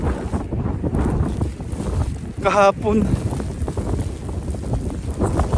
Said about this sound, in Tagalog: Ang lakas pa ng hangin, grabe.